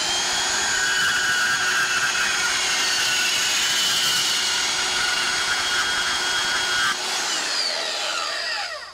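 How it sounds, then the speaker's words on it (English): Wood being cut below a notch on a workbench outdoors: a loud, continuous droning cut runs nearly the whole time and shifts in tone near the end before trailing off. "Just cutting below the notch here."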